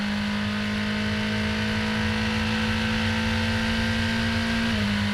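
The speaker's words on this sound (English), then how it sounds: "Out of Williams, onto Bentley Straight, speed building, up through the paddle shift gears." A BRDC Formula 4 race car accelerates down Bentley Straight at Snetterton and shifts up through its paddle gears. It makes a loud, close, steady high engine whine that dips sharply at one upshift near the end.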